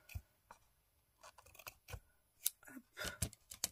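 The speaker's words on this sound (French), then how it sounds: "Je vais venir couper l'excédent quand même." Scissors snip away excess lace during a handmade craft-kit assembly, giving a run of short, crisp cuts at an uneven pace, close and fairly clear against a quiet room.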